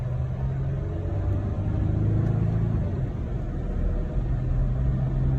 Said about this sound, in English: Acceleration with the truck on back.